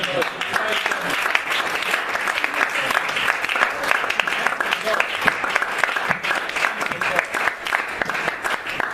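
Steady, dense applause from a church congregation at a midweek Bible study, close and continuous, with voices and cheers mixed into the clapping.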